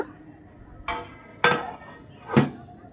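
A metal lid goes onto a pot of bean and shrimp curry with three sharp clanks about half a second apart. The last one rings a little longer, and there is quiet in between.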